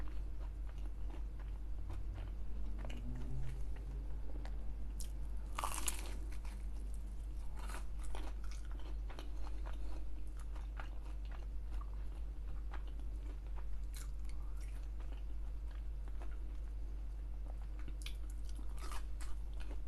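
Chili cheese bites being eaten up close, with repeated soft bites, crunches and wet chewing under a constant low hum, no talking.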